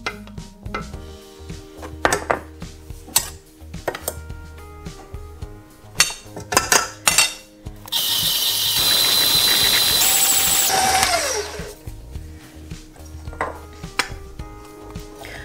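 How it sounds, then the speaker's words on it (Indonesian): Egg yolks being beaten with powdered sugar for lapis legit: clinks and knocks of utensils against a bowl, then a loud, steady electric mixer whir for about three seconds before more scattered taps. "terus kita masukkan gula halusnya sambil kita kocok"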